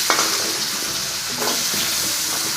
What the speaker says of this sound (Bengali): পেঁয়াজের সাথে আমি আলু একসাথে দিয়ে দেব।